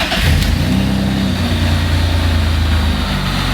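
A car engine runs steadily at idle after starting, a loud, constant low rumble with a faint mechanical whine, close and without voices.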